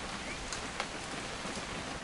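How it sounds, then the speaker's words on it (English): Steady rain pours in the game What Remains of Edith Finch, a dense, even hiss of falling drops with a few sharper patters, continuous and fairly close. "It's gonna rain the whole weekend,"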